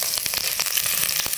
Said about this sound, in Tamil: அடுத்து வெங்காயம் போட்டுக்கலாம். அடுத்து காஞ்ச மிளகா போட்டுக்கலாம்.